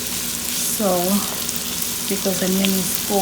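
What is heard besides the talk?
onion frying in a pan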